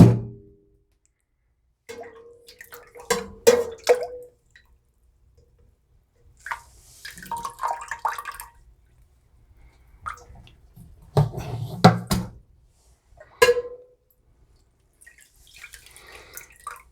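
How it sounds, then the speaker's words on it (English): Cut strawberry papaya fruit is moved into a one-gallon wine fermenter in several separate bursts of wet squishing, dripping and plopping, with quiet gaps between them. "I'm going to try not to make a mess transferring the fruit into the fermenter"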